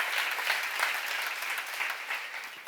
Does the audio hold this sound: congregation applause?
yes